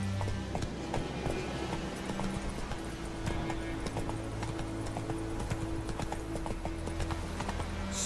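Roach the horse galloping in The Witcher 3, a steady rapid clip-clop of hooves, close and continuous, over a low ambient rumble throughout.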